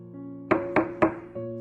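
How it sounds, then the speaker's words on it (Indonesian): Three sharp knocks on a teak wooden door, evenly spaced and close, followed by a softer fourth thud, over a quiet steady background hum. "Aku mengetuk pintu rumah yang terbuat dari kayu jati."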